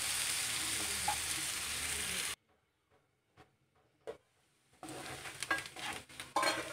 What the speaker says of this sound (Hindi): अब हम इसमें चॉप्ड प्याज डाल देंगे। प्याज को थोड़ा ब्राउन होने तक हम लोग कुक कर लेंगे।